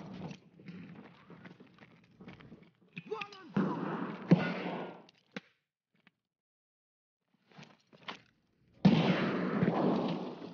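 Grenades and flashbangs go off in Escape from Tarkov, with loud bursts and crackling blasts between pauses, mixed with scattered shots and a voice speaking in places.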